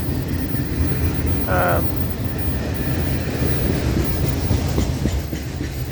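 A freight train with auto racks passes at Peavy Grade in Palm Coast, a steady loud rumble and clatter of railcars, with a brief tonal squeal partway through.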